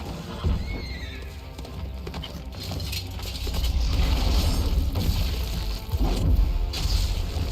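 Video game horses neigh and hooves clatter amid crashing and thumping noises, a busy loud scene with repeated whinnies and no talking. From The Witcher 3.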